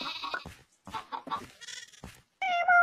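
Sheep in the Minecraft video game bleat several times, with short wavering cries scattered through the clip and a louder, steadier bleat near the end. No speech is heard.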